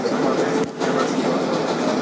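A steady onboard rumble inside a 2012 Kawasaki R-188 7 train on the IRT Flushing Local, with a short dip in the noise midway and a low, continuous roar throughout.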